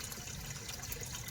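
Tap water running steadily into a container in a home kitchen, a continuous close hiss and splash filling the short moment without any voices.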